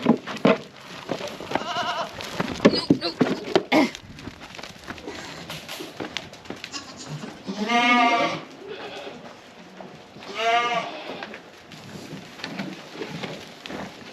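Goats bleat in a barn at feeding time: two loud, drawn-out bleats stand out near the middle and end, over a busy bed of rustling, shuffling and shorter calls.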